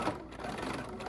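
Sewing machine stitching the seams of a fabric pumpkin trivet, a brief, close and steady mechanical whir heard alone.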